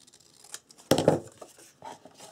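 Scissors snip and trim material for a chest, a few short sharp cuts close by in a quiet room.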